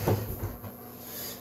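A wooden drawer on a flip-top tool cart, built without rails, slides open or shut with a short rumbling scrape and a soft knock, close and fairly quiet.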